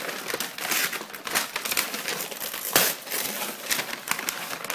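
Old paper wrapping crinkles and crumples in bursts of rustling while a LEGO Star Wars package is unpacked, close and fairly loud with no talk.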